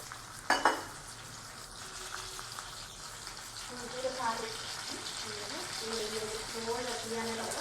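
Chutney being stirred and mixed in a frying pan, a soft sizzle running throughout with scraping strokes of the spoon and a sharp clatter near the start, while a voice talks over it.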